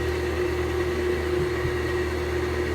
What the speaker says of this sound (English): I've got my blender on low just to help give it a nice good mix